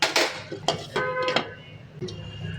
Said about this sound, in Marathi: आता आपण याला परतून घेऊ आणि बारीक गॅस करून परत झाकून ठेवून देऊ